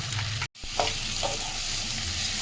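Ground spices, coriander, cumin, chilli and mustard, stir-fry in a pan with fried fish pieces. A moderate sizzle runs steadily with occasional stirring clinks, after a brief silent gap early on.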